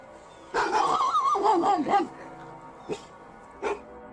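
A dog giving a loud, close burst of whiny barks and yelps, followed by two short fainter yips after a pause.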